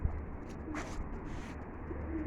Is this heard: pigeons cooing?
yes